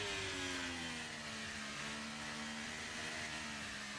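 A racing car engine screams at very high revs on track in Austria, burning off fuel, a sustained high-pitched whine with steady harmonics that holds at moderate level throughout, no voices over it.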